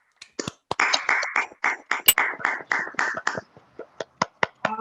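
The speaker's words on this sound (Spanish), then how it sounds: "Démosle un gran aplauso a Laura por su aprobación de su trabajo de grado" Sparse, close clapping from a small group for Laura's approved thesis, a quick burst of individual claps that fades into scattered single claps, with voices at the end.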